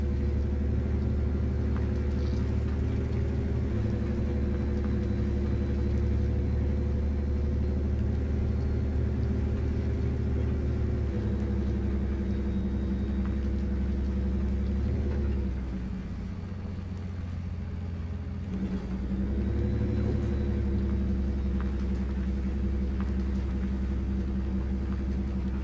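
In the video game Spintires: Mudrunner, a truck hauling a big trailer rumbles with a low, steady engine drone that dips briefly midway before resuming, heard alone.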